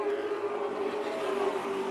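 Late model stock cars racing on the oval at Colorado National Speedway, a steady loud engine drone holding throughout with a sustained tonal whine and no pauses.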